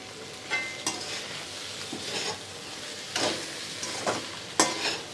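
A large slotted spoon stirs frying food around a pan for an Ugadi festival lunch, with repeated scraping strokes over a steady sizzle, close and alone with no voices.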